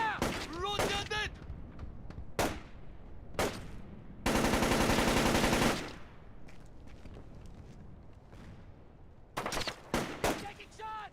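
Bursts of automatic gunfire in the stealth game Splinter Cell: Chaos Theory: several sharp single shots, then a sustained loud rattling volley, followed by quieter gaps and more clustered shots, with in-game voices shouting between them.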